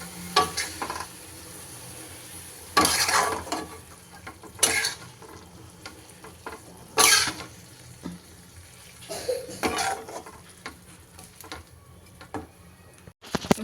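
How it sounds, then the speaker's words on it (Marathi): Spinach vegetable dish being stirred and mixed in a hot pan, with repeated scraping strokes and soft sizzling, several louder bursts spaced a few seconds apart, close and without talk. "आता आपण हाला सगळं मिक्स करून घेऊया असं"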